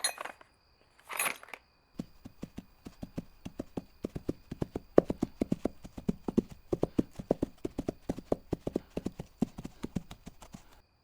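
Horse hooves clip-clop in a steady, fairly close rhythm for about nine seconds, with a few faint clinks mixed in and two short bursts of sound before the hoofbeats start.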